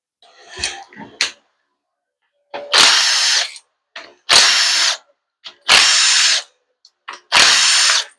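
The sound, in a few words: ratchet removing 8 mm bolts from a transmission valve body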